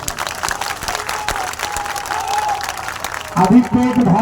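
Crowd at a Hindi-language public gathering clapping loudly throughout, with broadband applause continuing under a speaker's amplified voice and cheering voices rising near the end.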